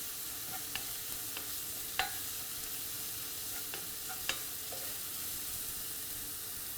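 Garlic ginger paste fries in coconut oil with a constant close hiss, punctuated by a few sharp clicks of a utensil stirring against the pan.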